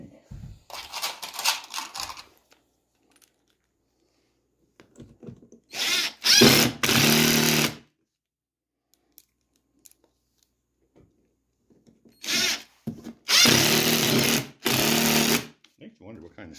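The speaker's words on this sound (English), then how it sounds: "pilot drill this stuff because" A power drill bores pilot holes into a hardwood chair in several short, loud whirring bursts separated by silence. Brief low sounds of handling can be heard between the bursts.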